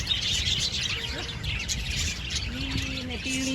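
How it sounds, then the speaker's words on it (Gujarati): Colorful small birds chirp in an aviary at Surat zoo, clear short tweets and repeated whistled calls ringing out over a broad background hum and distant crowd noise. "ખાય તો રંગબેરંગી ચકલી દેખાય છે"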